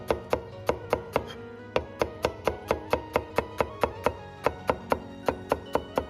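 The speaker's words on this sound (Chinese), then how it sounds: "接下来改刀，斜刀切成厚厚的薄片" A knife slices bitter melon diagonally into thick pieces on a cutting board, each stroke ending in a sharp, steady knock close by, repeated about twenty times in an even rhythm with no talking.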